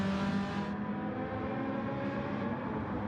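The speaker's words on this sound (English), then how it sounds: "I can hear that Ferrari." A Ferrari GT3-class race car engine in a racing game at the Nürburgring, a steady, moderately loud droning roar with a slight shift in pitch as the car holds speed, heard alone without talk.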